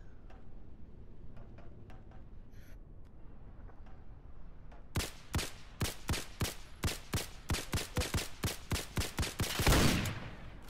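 Suppressed pistol fire in the game America Simulator, a rapid run of about fifteen sharp, evenly spaced cracks following a few quieter ticks, ending in a louder burst.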